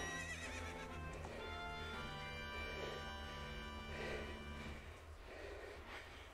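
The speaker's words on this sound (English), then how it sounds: "My horse." Epona the horse in a Legend of Zelda video game gives a whinny over steady game music, with breathy snorts and faint hoofbeats mixed in.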